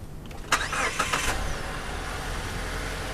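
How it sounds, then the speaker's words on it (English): A Honda car engine cranking and catching on a jump start from a good battery, a brief burst of starter whirring followed by the engine settling into a low, steady idle. "we're going to go ahead and start the vehicle with the good battery"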